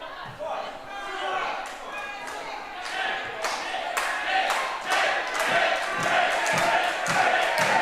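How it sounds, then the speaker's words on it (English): A pro wrestling crowd cheers and shouts for wrestler Kent Nelson, loud and sustained, with sharp slams and thuds breaking through the roar. "the crowd is firmly behind Kent, something we have been very used to hearing"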